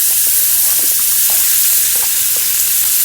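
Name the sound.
onions sizzling in oil and butter for salmon sauce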